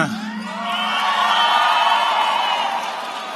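A conference audience cheers and whoops in a sustained swell of crowd noise after a brief opening, building to a peak midway and holding steady, with no speech over it.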